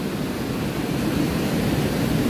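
Ocean waves at Pacar Beach in Tulungagung make a continuous broad rushing wash of surf, steady and fairly loud with no talk.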